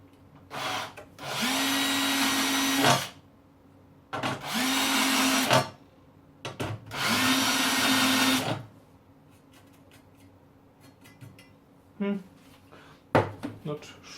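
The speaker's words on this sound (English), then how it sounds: "I'm now ready to basically grind the edges here a bit." Angle grinder working the edges of a metal amplifier chassis in a workshop, three loud sustained grinding bursts separated by short pauses, followed by quieter tool handling and brief clanks.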